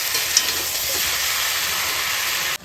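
Spices frying in a pan give a close, continuous sizzling hiss with no talk, steady from start to finish.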